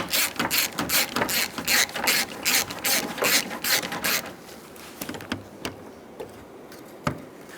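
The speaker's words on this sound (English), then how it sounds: "We're going to remove the 2 10mm bolts for the condenser brackets." A ratchet with a 10mm socket turns out condenser bracket bolts through the front grille of a 2010-2014 Subaru Outback, giving a loud, rapid clicking in quick strokes for about four seconds, then slower, quieter clicks and a few knocks.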